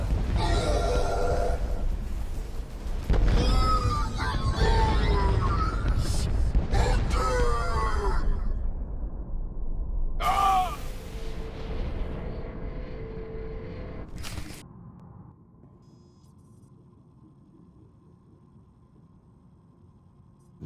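Eternal Fleet warships opening fire in Star Wars: The Old Republic on Iokath, a dense roar of blasts and booming impacts for about fifteen seconds, with a brief burst near the end before a quiet tail.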